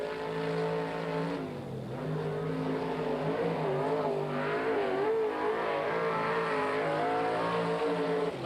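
A sprint car at a 1987 World of Outlaws event at Hales Corners roars through a qualifying lap, its engine note rising and falling as it comes out of a bend, loud and continuous with no talk.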